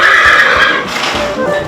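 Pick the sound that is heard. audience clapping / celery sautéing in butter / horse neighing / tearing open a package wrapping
horse neighing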